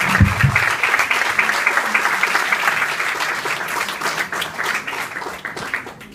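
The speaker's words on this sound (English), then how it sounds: "Please give them all a round of applause." Audience applause at a fundraising event, with many hands clapping in a dense, steady wash that stays loud throughout, plus a brief murmur of voices at the start.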